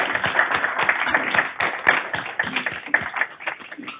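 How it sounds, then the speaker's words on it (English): A room full of people at a state transportation board meeting clapping steadily, with dense overlapping hand claps throughout and no talking. "we need to give a round of applause to our GDOT folks"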